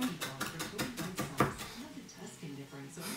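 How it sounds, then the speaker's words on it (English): A knife chops fresh parsley finely on a cutting board, a run of quick, evenly spaced taps, close by, with a speaking voice over part of it. "Chopping it up real fine here."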